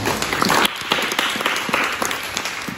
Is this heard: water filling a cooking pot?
no